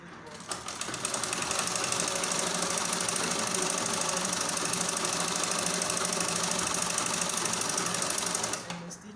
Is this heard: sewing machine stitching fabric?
yes